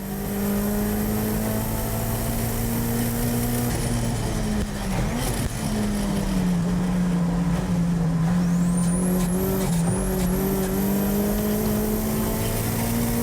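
A 550-horsepower tuned race car with a sequential transmission runs on track with a loud, steady engine drone, a brief lift and shift in the middle, then rising revs near the end.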